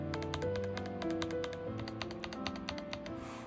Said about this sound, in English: These are some clicky keys, so I'll start here.